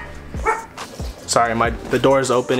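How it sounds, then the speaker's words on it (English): Dog barking indoors in several sharp, loud barks and yips in quick succession, close by, with someone talking between them. "Sorry for the dog barking"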